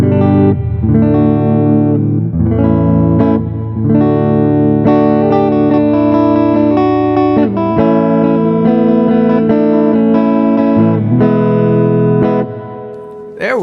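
Wolf WLP electric guitar on its neck pickup through a clean amp, playing mellow, sustained chords and notes up close, loud and continuous with brief breaks between phrases.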